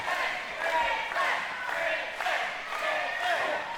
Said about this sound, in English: The crowd chanting for Marshall Samson there.